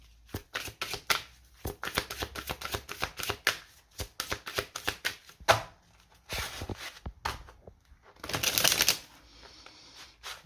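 Tarot cards are shuffled for a reading, a rapid close series of crisp riffling bursts and flicks in irregular clusters, pausing now and then before a longer dense riffle near the end.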